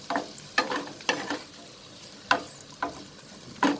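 Prawns and onions stir-fried in a pan: rhythmic scraping strokes of a spatula come roughly every half second over a soft, continuous sizzle, close and fairly loud, with no talking.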